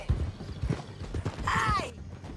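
Horse hooves clip-clop at a gallop in a Western open-world game, a quick rhythmic thudding with a brief whinny partway through, all fairly close.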